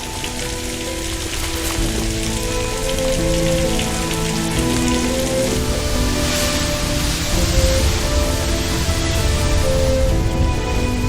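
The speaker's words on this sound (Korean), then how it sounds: "우기인 고비는 비와 함께 짧은 여름을 맞는다." Steady rain pours down during the short summer rainy season in the Gobi desert, a dense even patter on the ground that holds at the same loudness without a break.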